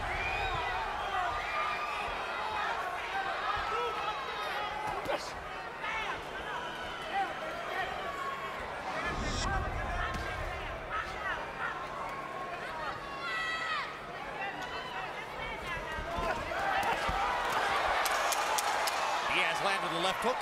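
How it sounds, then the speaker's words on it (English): A boxing arena crowd in the Juan Manuel Marquez vs Juan Diaz rematch of July 31, 2010 keeps up a steady roar, swelling into louder cheering toward the end, under continuous commentator talk. "Every time Diaz lands a punch, now the crowd starts cheering him on"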